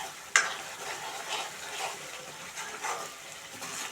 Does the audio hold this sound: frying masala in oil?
yes